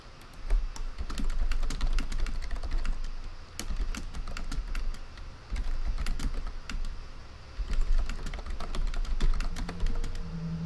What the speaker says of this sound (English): God, you're typing fast.